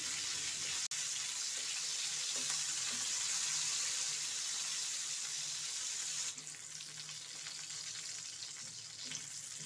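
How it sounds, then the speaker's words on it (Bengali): Halved eggplant pieces fry in oil with a steady, dense hiss and sizzle, close and continuous, dropping slightly quieter partway through as the frying settles. "আমার বেগুনগুলো ভাজা হয়ে গেছে,"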